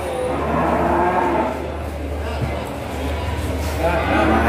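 Cattle lowing at a Kliwon animal market in Kudus, Indonesia, with repeated moos over a steady crowd murmur; people talk throughout.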